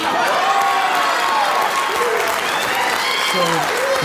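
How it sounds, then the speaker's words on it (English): Studio audience applause at a show taping, steady and loud throughout, with a few voices calling out and whooping over the clapping. "The people that you were hearing clapping the loudest and the most enthusiastically are the producers of that show"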